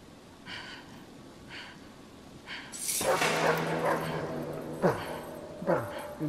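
A dog in the video game Intenciones Ocultas 2 gives a few sharp yips and whimpering cries over a low background hum, with several short, close yelps toward the end.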